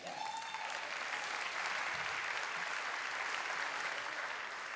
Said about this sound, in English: The people clapping are the ones who work there.